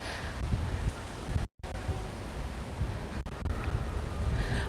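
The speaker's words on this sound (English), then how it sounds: "just as we've stepped back from the beach, it's got very, very windy" Strong gusty wind near the beach in Magaluf, Majorca, buffets the microphone with a constant low roar, broken once by a brief dropout.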